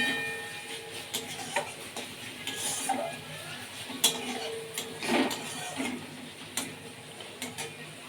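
Spice paste for macher jhal stirred and fried in a pan, with scattered scraping and clinking of a utensil against the pan at an irregular pace over a faint, steady background.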